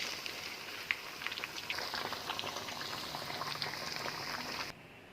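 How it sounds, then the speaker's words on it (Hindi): Fish pieces frying in a pan make a continuous dense sizzle, close and fairly even, with faint spattering ticks before it cuts off near the end. "एक साइड से मछली पक चुकी है, अब इसकी साइड हम चेंज करके दूसरी साइड से भी इसे अच्छी तरह से हम पका लेंगे।"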